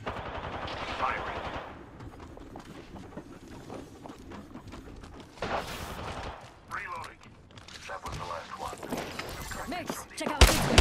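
Bursts of gunfire crack in an Apex Legends match, several short volleys and single shots at varying loudness, with talk mixed in between.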